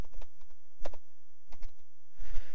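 Filter text typed on a computer keyboard while navigating a ServiceNow menu: short clusters of quiet, close keystrokes separated by brief pauses in a silent room.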